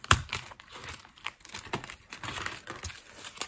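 Paper envelopes being handled and moved around, giving close, quiet crinkling and rustling with scattered soft taps.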